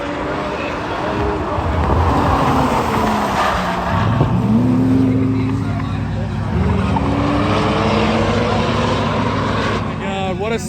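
Drag racing cars roar past at a spectator event, engines revving and rising in pitch with tires squealing, loud and sustained, under a crowd of background voices.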